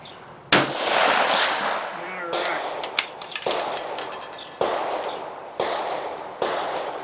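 Savage Axis rifle in 6.5 Creedmoor fired at targets 100 yards downrange: several sharp, loud cracks spaced a second or more apart outdoors, each trailing off into a decaying echo.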